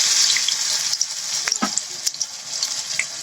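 Amaranth-leaf pakoras dropped into hot oil in a wok fry with a loud, steady sizzle, broken by a few sharp crackles and pops.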